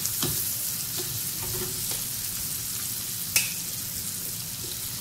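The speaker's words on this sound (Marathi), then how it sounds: "2-3 मिनिटांसाठी आपल्याला भाजून घ्यायचं आहे थोडं" Vegetables and baby corn roasting in a home kitchen pan, a steady close sizzle and fry with a few scraping stirs and one sharp clink.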